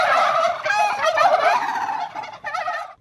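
Free-range turkeys of a traditional breed raised on farms gobble loudly and close, a rapid warbling burst that fades, then a shorter gobble near the end, with no talking.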